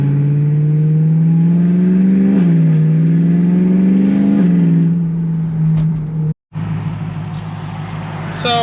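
BMW E92 M3 engine revving hard while driven aggressively, a loud, close drone that climbs and falls in pitch through repeated gear pulls, with a brief cut near the end before the engine note resumes.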